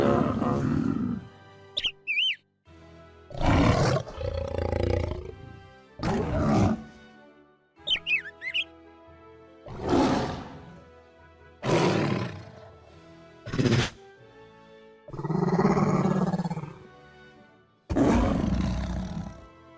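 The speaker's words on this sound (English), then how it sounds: "And some of them are lion sounds." Repeated loud lion roars from the video game Cookie Run: Kingdom, about eight separate bursts over roughly twenty seconds with short gaps, a couple of brief high chirps mixed in, and no talking.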